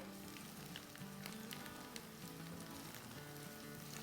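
Roughly chopped garlic cloves and green coriander sauté in a pan, sizzling and crackling softly and steadily, faint and close with small spatters throughout.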